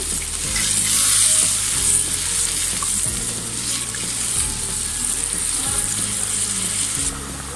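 Beef simmering in water over a high gas flame for haleem, a steady broad sizzle and bubbling hiss throughout with a low rhythmic hum underneath, close and fairly loud, no voices.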